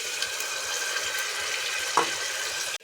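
Chopped tomatoes are added to onions sautéing in a pan for a ridge gourd curry, giving a soft, continuous sizzle and frying hiss with one brief stir or drop near the end.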